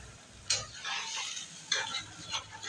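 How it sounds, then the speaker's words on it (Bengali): Spice paste with Kashmiri chilli powder and a little water, cooked down in a pan for a fish egg curry, with a few sharp spatula scrapes over a soft, wet sizzle, close by. "একটু জল দিয়ে মশলাটা ভালো করে কষিয়ে নেবো বন্ধুরা।"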